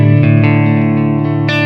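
Clean electric guitar tone through a Helix Stomp with a touch of reverb, tuned to drop D, a sustained chord ringing with a few light picked accents and a brighter strum near the end, close and loud with no talking.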